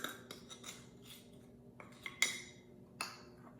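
A spoon scrapes almond butter into a mixing bowl for vegan oatmeal cookies, giving soft scraping strokes and a few sharp metallic clinks against the bowl, close and fairly quiet, with no talking.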